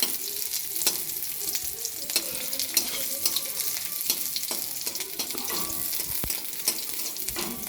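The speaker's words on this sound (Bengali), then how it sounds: "ক্যাপসিকাম ভাজা ভাজা হয়ে এসেছে।" Capsicum fries in a pan with a steady, close sizzle throughout, punctuated by frequent scraping and stirring clicks of a utensil.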